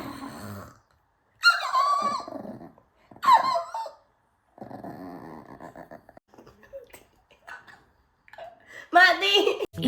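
A person mimics a dog with squeaky yelps, whimpers and growly barks in short bursts separated by pauses, close and fairly loud.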